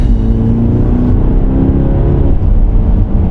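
A BMW X3 30 luxury SUV engine pulls hard under acceleration, a steady loud drone of rising engine and road noise heard from inside the cabin, continuous for a few seconds with no talk.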